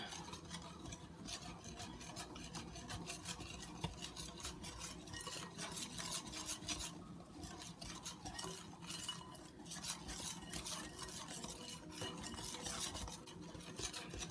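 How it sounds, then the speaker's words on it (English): Flour being whisked into peanut butter pancake batter in a bowl: a steady, soft scraping and swishing that continues without a break, close but quiet. "And continue whisking until it's well incorporated and you don't see any lumps."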